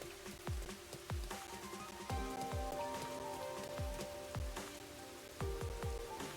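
Rain falls steadily in the video game Rain Code, with a series of sharp, evenly spaced low thuds under a tonal game soundscape.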